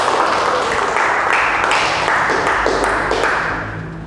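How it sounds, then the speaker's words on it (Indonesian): A classroom of students claps together, a loud, dense, rhythmic patter of many hands that holds steady before tapering off near the end. "biar semangat semuanya kita tepuk tangan dulu ya"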